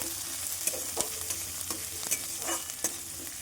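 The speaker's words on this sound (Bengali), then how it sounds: "পেঁয়াজ কুচি দেবো পেঁয়াজটা দেওয়ার পর লাল লাল করে ভেজে নেবো পেঁয়াজটা" Chopped onion fries in a pan with a steady, soft sizzle while a utensil stirs it. Sharp scrapes and taps recur every half second or so, with no talking.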